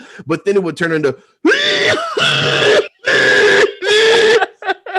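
A person briefly speaks, then uses their voice to imitate a terrible chronic cough: a series of long, rough, hacking rasps, each separated by short pauses and loud against quiet surroundings.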